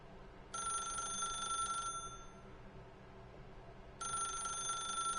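Phone rings twice in The Stanley Parable video game, each a bright electronic trill lasting over a second, separated by a long quiet gap with low room hum.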